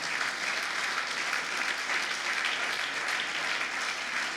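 A church congregation gives a loud, continuous round of applause, dense clapping holding steady throughout with no speech over it.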